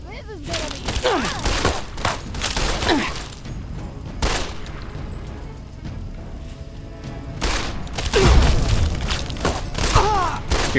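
Gunfire from the game Fallout TTW rattles in repeated bursts and sharp cracks at a turret, loud and dense, with a heavy thump near the end. A voice talks over parts of the shooting.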